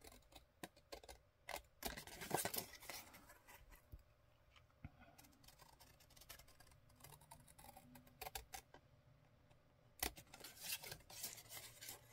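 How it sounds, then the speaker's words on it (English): Scissors cutting paper for a junk journal page, a series of sharp, close snips in irregular bursts separated by quiet pauses, clustered near the start and again toward the end. "I'll use these scissors instead."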